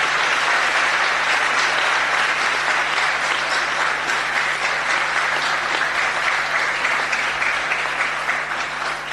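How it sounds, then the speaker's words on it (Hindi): An audience at a religious discourse applauds loudly to welcome a man onto the stage, a dense, continuous clapping that holds steady for the whole stretch. "जोरदार तालियों से इस व्यक्ति का स्वागत होना चाहिए"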